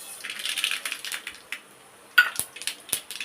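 Mustard seeds, urad dal and cumin tempering in hot oil in a home kitchen, a thin crackling sizzle with scattered sharp pops and small clinks, fairly faint and close.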